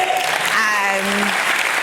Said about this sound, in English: Guys, can you give them a huge round of applause?